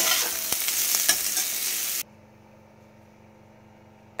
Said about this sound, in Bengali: এদিকে হচ্ছে উচ্ছে আলু ভাজা